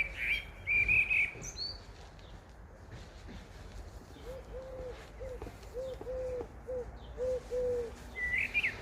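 Birds chirp and coo in a home garden: a few sharp high tweets near the start and end, with soft dove-like coos in the middle, all faint against a quiet outdoor background.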